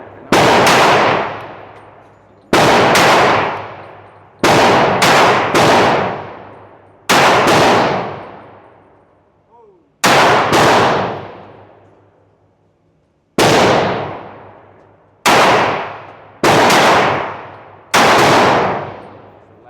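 Nine loud Glock 31 Gen4 pistol shots crack out at an outdoor range, each a sharp blast with a long decaying echo, fired singly at irregular intervals of about two to three seconds.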